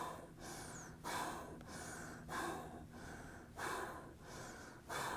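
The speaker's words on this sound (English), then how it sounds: "keep breathing a few more times." Deep, rhythmic breaths during a meditation breathing exercise, with about five full inhale-exhale cycles spaced roughly a second apart, close and fairly quiet, with no talking.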